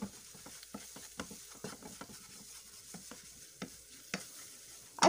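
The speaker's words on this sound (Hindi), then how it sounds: "अभी मैं इसमें 1/2 कप मैदा डाल दूंगी और अच्छी तरह से मिक्स कर लूंगी।" Flour being mixed into garlic paste in a pan makes a steady run of quick spoon scrapes and taps against the pan over a faint sizzle. It is close and moderately loud, with a sharper clatter at the end and no voices.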